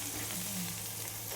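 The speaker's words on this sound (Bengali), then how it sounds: "এই যে মাটনটা এবার হচ্ছে কষানো, ভালো করে কষাবো" Mutton sautés in mustard oil with leftover fried onion and star anise, giving a steady, soft sizzle and frying hiss with no talking.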